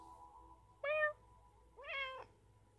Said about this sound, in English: Yeah, there's a meow.